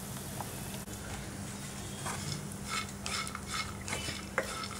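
Dates being sautéed for dates burfi in a pan give a soft, steady sizzle under a low hum, with scattered scrapes and light taps as a utensil stirs them against the metal.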